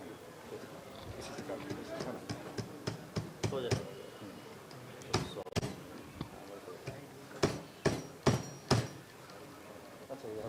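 A surgical hammer taps repeatedly during a workshop, a series of sharp knocks that grow more frequent and forceful toward the end, heard under and between talking.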